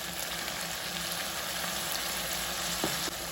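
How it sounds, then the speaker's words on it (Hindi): Garlic chicken frying over high flame in a pan after a spoonful of vinegar goes in, a steady close sizzle running on alone with small crackles near the end. "इसको अच्छे से अभी हम भून लेंगे 1 मिनट विनेगर डाल के"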